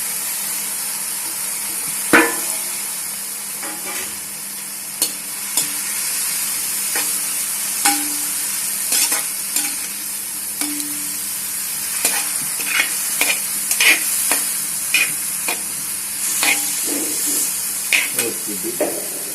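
Steady sizzling as vegetables go into a hot pan for beef stew, with repeated clinks and scrapes of a spoon stirring, continuing throughout at close range.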